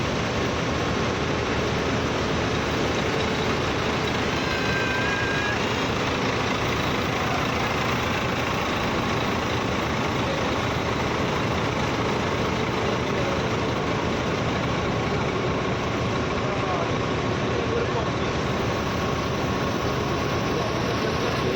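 A Putra Pelangi sleeper bus idles at Batoh type A bus terminal in Banda Aceh. Its heavy engine gives a steady, even low rumble, close and constant throughout, with no talk over it.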